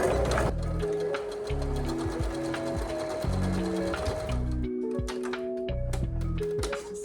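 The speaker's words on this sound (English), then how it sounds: "I'm just gonna put a little stitch through here" Sewing machine stitching fabric for a summer sundress: several close, steady bursts of rapid mechanical stitching separated by brief pauses, with no talking.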